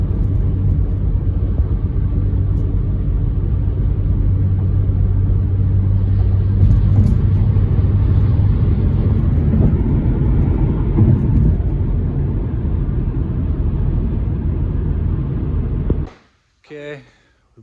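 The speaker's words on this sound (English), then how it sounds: "Okay, we brought the car in." Car being driven to a paint shop, a steady loud engine and road rumble filling the interior, running continuously before cutting off near the end with a brief clunk.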